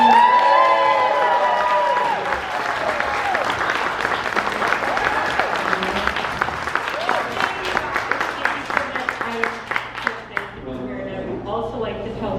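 Audience applause and cheering at a live event honoring MK Holstein, loud clapping with whoops and shouts from a crowd, voices mixed in, swelling then gradually thinning out.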